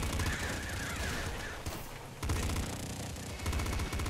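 Bouncer gun firing in the video game Nuclear Throne: dense, rapid, continuous bursts of shots with one brief lull in the middle, loud and without talk.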